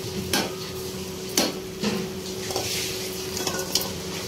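Prawns tipped into a simmering eggplant and raw mango curry in a pot: soft sizzling and stirring with several short metallic scrapes and knocks of a spoon against the pot, close and steady, with no talk.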